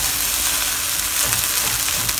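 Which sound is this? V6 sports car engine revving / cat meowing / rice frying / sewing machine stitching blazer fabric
rice frying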